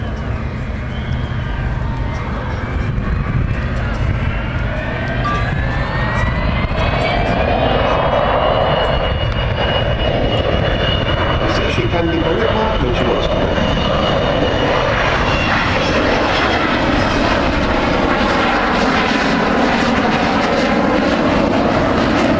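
An Avro Vulcan B2 jet bomber passes with landing gear down at the 2014 Farnborough Air Show, its engines giving a loud, sustained roar that swells and shifts in pitch throughout.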